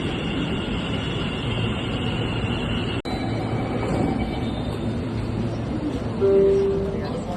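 A metro train rumbles steadily at a metro station in Sabarmati, a continuous low rolling drone with a brief gap partway through and a thin tone rising near the end, heard up close.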